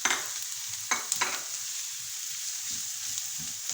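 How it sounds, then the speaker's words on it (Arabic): Tomato paste frying with onion in a pan gives a steady hiss of sizzling. A few scraping stirs stand out near the start, and no one talks. "نزيدو نخلوها تتقلى بيان مع هذاك البصل"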